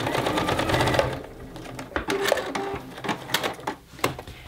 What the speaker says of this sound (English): I'm gonna stitch it up from this side, okay, so that I can see it. Real close to the edge again.